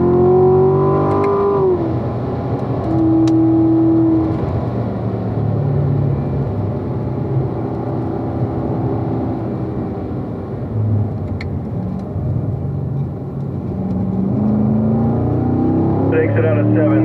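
A Corvette Grand Sport pulls hard out of a corner on a race track at a driving school, its engine note rising and holding loud and close for the whole stretch, with a voice talking over it.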